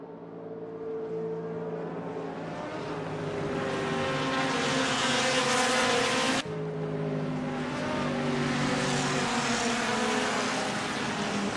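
Race car engines idling and revving on the starting grid at Spa in Assetto Corsa, a steady layered engine drone that builds slightly, with a brief break midway.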